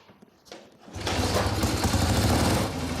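A Triumph Speed Twin motorcycle engine catches after a few quiet sounds and settles into a steady, loud, throbbing run that continues to the end.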